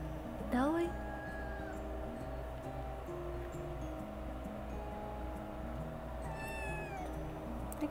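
A pet cat meows near the start and again later, brief rising cries over a steady low hum and faint background tones, with no talk.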